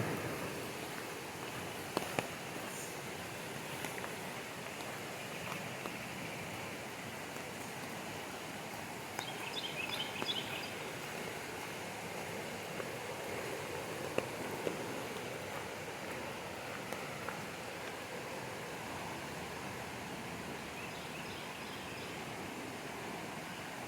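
Continuous rain hisses evenly on the Gatlinburg Trail in Great Smoky Mountains National Park, a soft broad wash with scattered louder drops and faint distant chirps.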